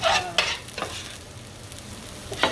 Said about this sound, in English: I'm going to saute my potatoes, saute that with